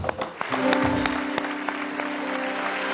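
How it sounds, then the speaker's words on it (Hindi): Game show studio audience applauds for Fahad, a sustained patter of many hands under a held musical tone, with a few sharper claps near the start. "फहद के लिए बहुत सही तालियां"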